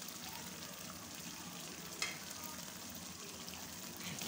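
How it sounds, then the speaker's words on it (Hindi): Beef karahi with yogurt and green chillies fries in a pot, a low, steady sizzle with faint stirring and a single light clink of the spoon midway. "फ्राई करना है, अभी अच्छे तरीके से फ्राई करना है।"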